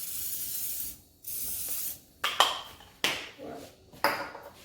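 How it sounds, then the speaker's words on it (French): Short hissing bursts of cooking spray aerosol are directed onto a hot waffle iron while Belgian waffles are made, with several separate sprays spaced about a second apart. They sound close and fairly loud, with no talking. "je vais mettre juste un tout petit peu d'aérosol, le spray"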